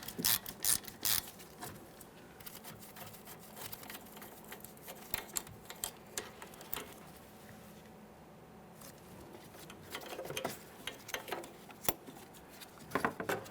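Ratchet wrench loosening a 14mm mounting bolt that holds the brake flex hose and ABS wire on a 2014-2019 Toyota Corolla front strut, heard as quiet bursts of rapid clicking spread across the clip with pauses between.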